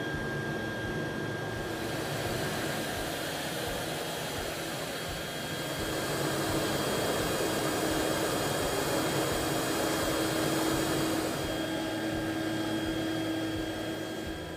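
A CNC machine cutting small pieces from a sheet, heard as a loud, steady whooshing, whirring roar that holds for about fifteen seconds, swelling slightly midway, with no talk.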